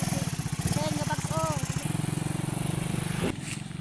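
A small motorcycle carrying roofing sheets runs with a rapid, buzzing engine throb that drops to a lower idle partway through, while people talk over it.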